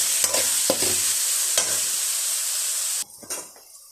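Sliced onions sizzle in hot coconut oil in a pan, with a steady crackling fry broken by several scraping stirs. The frying drops away abruptly near the end.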